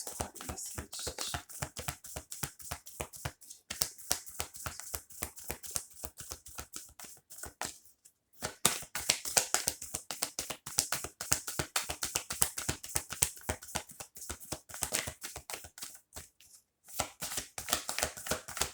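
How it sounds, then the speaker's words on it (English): Oracle cards are shuffled by hand in long runs of rapid, crisp flicks and taps, close up, broken by two short pauses before the riffling resumes. "I'm going to pull some oracle cards for you"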